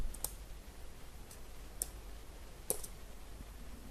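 A computer keyboard's keys are pressed as a Caps Lock plus P combination, giving a few sparse, faint, sharp clicks spaced about a second apart over quiet background hiss.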